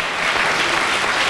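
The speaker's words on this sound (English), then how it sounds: "Give you all a round of applause." Brief burst of steady clapping from a crowd of about 200 people gathered in a town hall, thick and even throughout the short moment.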